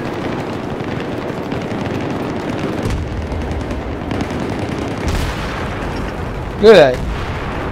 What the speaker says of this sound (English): a lot of people are using grenades